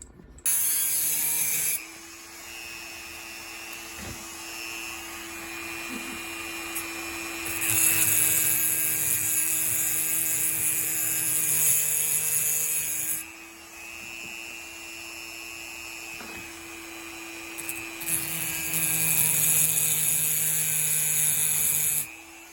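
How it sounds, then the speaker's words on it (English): A wind-up toy being wound by hand, a close, repeated ratcheting clicking in long stretches, broken by short pauses and a few sharper clicks. "Just winding it up. It's a unwind toy. Or wind up toy."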